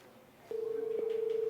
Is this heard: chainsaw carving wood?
no